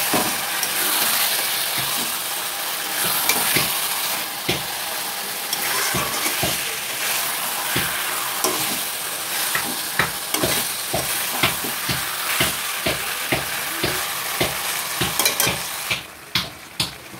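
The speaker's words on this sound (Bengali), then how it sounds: "মাংসটা আমার কষানো হয়ে গেছে" Chicken pieces frying with spices and oil in a pan for a thin chicken curry, a loud continuous sizzle broken by many rhythmic scrapes and clacks of a spatula stirring against the pan, ending in a few separate knocks.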